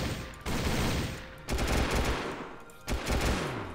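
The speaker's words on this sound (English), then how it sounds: "And now the customized rifle." A customized rifle fires rapidly in the Starbound video game, giving three loud bursts of sustained automatic fire separated by short pauses, with no talk.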